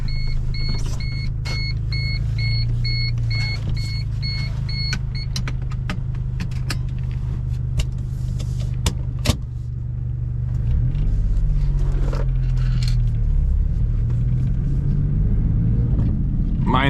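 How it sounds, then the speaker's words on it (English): A 1996 Geo Metro's engine hums steadily from inside the cabin, with low rumble, occasional clicks and faint chiming beeps early on. "Driving the Geo Metro."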